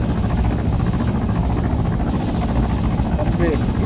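Aircraft engine in a flight combat video game, a steady droning, thrumming rotor-like engine noise held at a constant level while someone talks over it.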